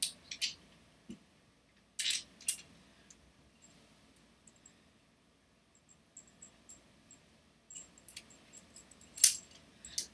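Metal hardware components for a sprint car simulator brake build, including a cut-down 3/8-inch bolt, clinking lightly as they slide onto it, with scattered small metallic ticks and jingles, near and fairly quiet, separated by quiet pauses.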